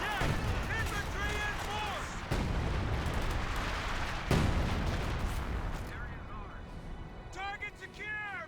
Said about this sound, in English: Major brings in artillery